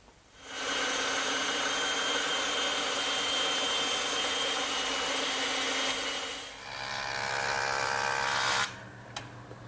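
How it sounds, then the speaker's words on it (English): A bandsaw slices straight wooden stock into tapered cleats, a loud sustained whining hum that runs steadily for several seconds, dips briefly, resumes, then stops as the blade spins down. "I'll cut them over on the bandsaw"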